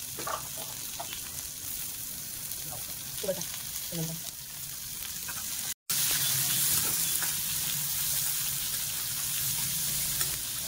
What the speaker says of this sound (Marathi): व्हेज पुलाव बनवताना ना सर्व भाज्या आणि थोडं तेलामध्ये मस्त असं परतून घ्या